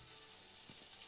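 Meatballs fry in a pan for Sicilian spaghetti sauce, a soft continuous sizzle, faint and steady with no voices.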